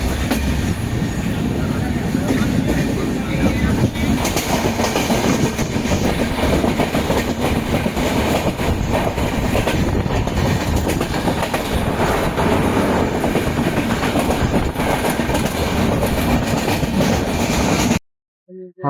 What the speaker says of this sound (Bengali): সাথে সাথে আমাদের ট্রেনের সাথে সাথে একটা লোকাল ট্রেনেরও ডিপার্চার হচ্ছে